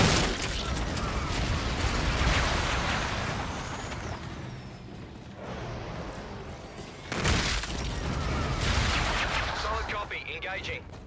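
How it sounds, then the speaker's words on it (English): Friendly bombardment lands in Call of Duty: Infinite Warfare as a dense, loud barrage of blasts and crackling impacts, with sharp bursts near the middle and the end, under game chatter. "Friendly bombardment incoming"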